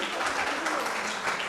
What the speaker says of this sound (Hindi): तालियों की गूंज उठती रहे।